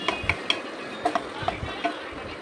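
Pieces of bitter gourd are stirred in a pan, with a spatula scraping and clinking against metal in irregular strokes over a soft sizzle.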